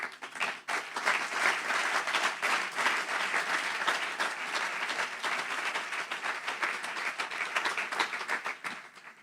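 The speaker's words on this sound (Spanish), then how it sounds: "Dale un aplauso al Señor." A church congregation applauds for the Lord during a pastor's sermon, a dense, steady clapping that fills the room at an even level for the whole stretch, with no voices standing out.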